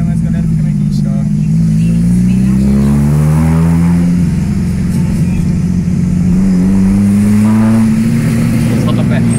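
An old Chevrolet Kadett with a modified exhaust accelerates, its loud close engine rising and falling through revs with a deep rumbling drone, with people talking over it.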